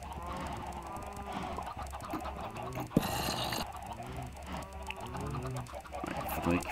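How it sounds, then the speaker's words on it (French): Minecraft chickens cluck repeatedly in a video game, overlapping clucks over a busy background of game sounds with a sharp click near the middle. "Faut que je m'arrange pour faire un truc avec ces poulets."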